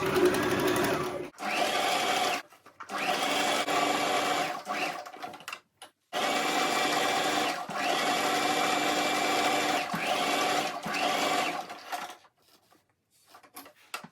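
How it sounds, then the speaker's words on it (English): A sewing machine stitches tulle mesh fabric for a turban in several rapid whirring bursts. The bursts are close and clear, separated by short pauses and stops. "you take it to your fabric to your sewing machine and stitch it down right from the band round to this side"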